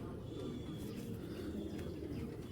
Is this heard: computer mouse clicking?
no